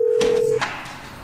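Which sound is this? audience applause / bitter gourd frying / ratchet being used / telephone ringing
telephone ringing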